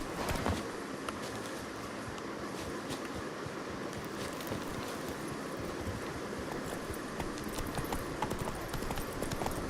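Hooves of Roach, a horse in Witcher 3, clip-clop steadily under wind and broad outdoor ambience, the footfalls fairly soft and continuous throughout.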